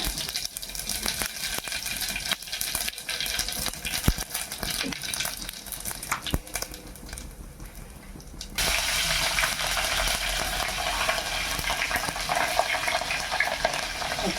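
Cumin seeds fry in hot oil for tamarind pulihora, a steady crackling sizzle under dense stirring noise that turns louder and brighter partway through, with no voices.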